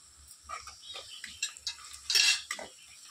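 Onions being stirred in a pan with salt and sugar for masala khichuri: a spoon or spatula scrapes and clinks against the metal in short, uneven strokes, close and fairly quiet, with a louder scrape near the end.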